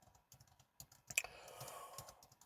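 Someone typing an email subject on a computer keyboard: quiet, close key taps in short irregular bursts, then a quicker run of clicks toward the end, with no voices.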